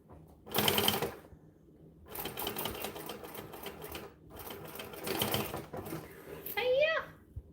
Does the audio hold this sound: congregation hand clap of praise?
no